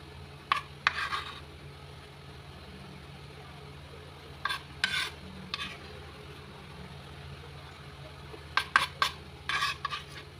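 A metal utensil clinks against a bowl in short scattered bursts while fish lumpia filling is mixed, over a low steady background hum.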